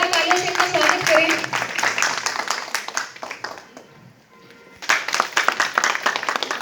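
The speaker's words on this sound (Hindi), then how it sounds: "जोरदार तालियों से इनका स्वागत करें।" Sustained crowd clapping at a BJP district office women's meeting in Kathua, welcoming a guest; someone speaks over the opening, the applause dips briefly, then swells again, close and lively.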